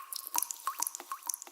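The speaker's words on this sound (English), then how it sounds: "some water drops" Water-drop effects in a kawaii future bass track fall as a quick string of bright, close plinks and drips, about a dozen in under two seconds, each with a short watery pitch bend.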